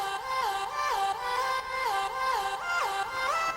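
A pitched vocal synth preset from a sample pack sings a short, bouncy melodic line with sliding pitch bends, bright and upfront, repeating through the phrase with no speech.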